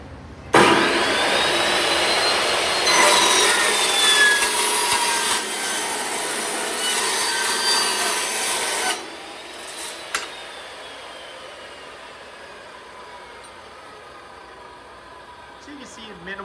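A Metal Devil cold-cut saw with a 14-inch blade slices through steel strut, stainless on top and 12-gauge galvanized below, giving a loud, bright, whining grind for about eight seconds before the blade spins down and handling noises follow.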